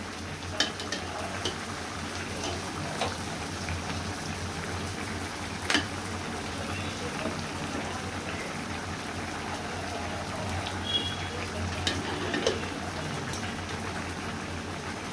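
A ridge gourd and pangas fish curry simmers quietly under a lid, a faint, steady bubbling hiss with occasional soft clicks and pops throughout.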